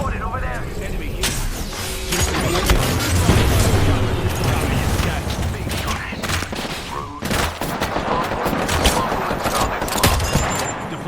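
Dense, continuous gunfire in a shooter video game: rapid overlapping shots, bursts and impacts crackle loudly throughout, with in-game voice callouts mixed underneath.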